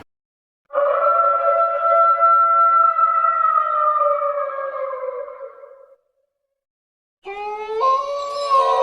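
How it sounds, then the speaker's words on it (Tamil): A long, tonal jackal howl rises and slowly fades, then a second wavering howl begins after a short silence, with an eerie, distant quality. "அப்ப தூரத்துல கேட்ட நரிகள் ஊழையிடுற சத்தம்"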